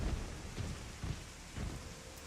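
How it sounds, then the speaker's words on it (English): Rain falling steadily in the Final Fantasy XIV video game, a constant hiss of drops with soft low thumps and rumbles recurring about every half second, fairly quiet and without talk. "The rain is rather nice."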